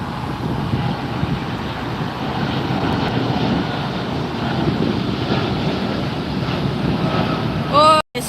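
A Japan Airlines airliner takes off at Los Angeles International Airport, a broad continuous engine roar heard from a distance with wind buffeting the microphone, steady throughout before a brief clatter near the end.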